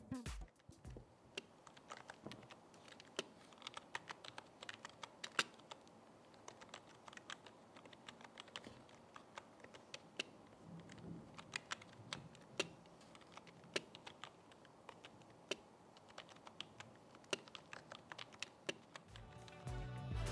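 Typing on a Rexus Battlefire K98M gaming keyboard with a slightly bouncy feel: quiet, soft key taps patter irregularly and continuously at close range, faint overall, with no talk.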